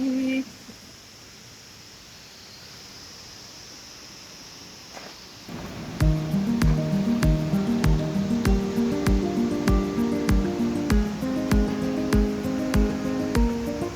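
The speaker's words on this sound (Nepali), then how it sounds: "अनि यो चाहिँ यता एकछिन झरना हेर्नलाई बसेको" Steady rushing water from a waterfall near Dhap Dam in Sundarijal fills the first five seconds or so, fairly loud and even. Rhythmic music then comes in and largely covers it.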